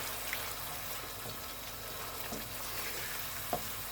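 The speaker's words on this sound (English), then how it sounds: "you just want to toast the bottom of that base gravy and get it well cooked" Prawn curry base gravy cooking in oil in a pan, with a soft, low sizzle and a couple of faint clinks from a utensil.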